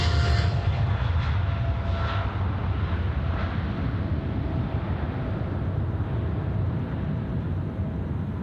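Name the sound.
Air China jet taking off at Sydney Airport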